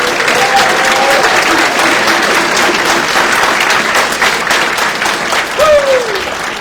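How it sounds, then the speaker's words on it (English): A large crowd gives sustained, loud applause at a Navy Supply Corps School graduation ceremony. The dense clapping continues throughout, with faint voices rising over it at moments. "another big round of applause for 1st Battalion."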